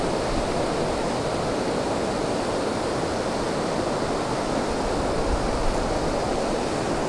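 A waterfall rushes steadily at a stocked trout fishing spot, a loud, continuous broadband roar filling the whole stretch with no pauses and no voices.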